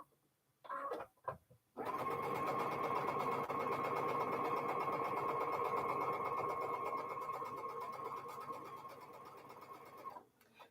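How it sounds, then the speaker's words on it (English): A sewing machine chain-pieces half rectangle triangles for a quilt. After a few short bursts it settles into a steady, close, rapid whir for about eight seconds, then stops, with no talking. "So I'm just chain piecing my half rectangle triangles."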